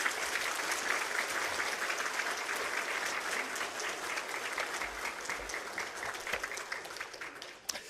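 A church congregation at a Sunday worship service applauds to welcome a guest pastor, a sustained, even patter of many hands clapping, moderately distant, tapering off near the end.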